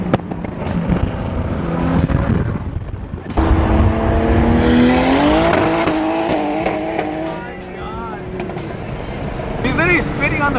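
Widebody Nissan GT-R on the freeway, its loud exhaust roaring and rising through revs with crackling pops and bangs near the end, while voices talk over it.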